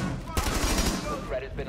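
Rapid video game gunfire hits the player in a short, dense burst of shots, loud and close, with a voice talking over it.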